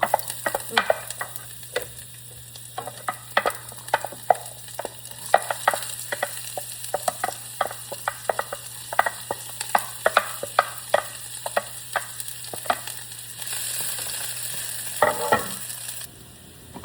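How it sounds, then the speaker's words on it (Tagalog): Aromatics fry in oil in a pan for seafood pasta, hissing steadily while a utensil scrapes and clatters in repeated stirring strokes, close and continuous. "So, ngayon guys, prituhin na natin yung mga lamas natin."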